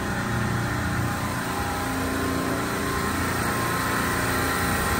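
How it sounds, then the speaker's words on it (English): A refrigeration compressor running back on after oil safety control programming, a steady, loud mechanical drone with a continuous broadband hum and no pauses throughout. "And now our compressor is back on."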